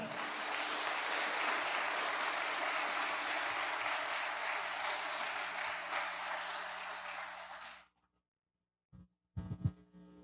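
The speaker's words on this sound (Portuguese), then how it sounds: "Vamos aplaudir o Senhor?" A church congregation applauds together in a dense, sustained wash of clapping for several seconds, then it stops abruptly into near silence, followed by a couple of brief, faint sounds.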